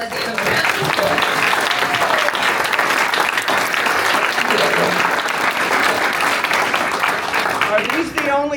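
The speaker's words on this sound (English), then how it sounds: "Let's give them a round of applause." Sustained audience applause for candidates at a local Democratic party event, a loud, dense roar of clapping that holds steady for several seconds, with scattered voices mixed in before it tapers off at the end.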